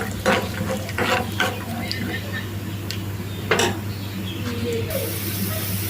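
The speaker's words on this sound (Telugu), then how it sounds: "అదే కడాయిలో అదే ఆయిల్ కొద్దిగా వేడెక్కిన తర్వాత పల్లీలు వేసుకుంటున్నాను." Peanuts fry in hot oil in a kadai: a steady low sizzle with scraping, clinking stirs of a metal spoon against the pan, heard close.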